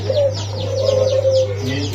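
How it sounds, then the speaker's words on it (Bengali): A Golla pigeon coos nearby in one drawn-out low call, with other birds chirping faintly in the background over a steady hum. "এই গোল্লাটা ভাই একদম অরিজিনাল পিওর একটা গোল্লা কবুতর"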